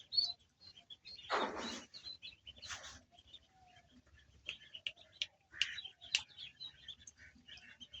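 Young ducklings newly brought to a farm, thin high peeps and chirps scattered irregularly over several seconds, fairly faint, with a couple of louder broadband rustles.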